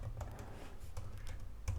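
Keys clack on a computer keyboard as a name is typed, a quick irregular run of soft taps with a louder keystroke near the end, close and alone with no talk.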